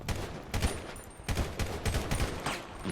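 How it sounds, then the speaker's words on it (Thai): Gunfire during target practice in GTA V, irregular bursts of loud shots close by, some single and some in quick clusters. "อันนี้ผมมาซ้อมยิงเฉยๆนะคุณผู้ชม"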